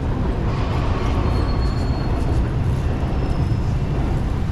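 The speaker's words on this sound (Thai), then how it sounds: "อุ้ยรถไฟฟ้าไปแล้ว" An elevated BTS skytrain on Sukhumvit Road in Bangkok, between Asok and Phrom Phong, rumbles past with a steady, continuous rolling roar mixed with city traffic noise, no voices.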